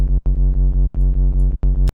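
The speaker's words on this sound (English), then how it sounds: "you start to get that classic kind of noisy reese sound" A thick, buzzy distorted reese synth bass made in Reason 10 for drum and bass repeats in short gated bursts, three main pulses with quick rhythmic stutters, loud and gritty.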